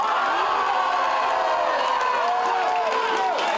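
Dense roar of a large football stadium crowd during a World Cup penalty shootout, steady and loud throughout with rising whoops and shouted tones, cheering mixed with jeers, no single voice standing out.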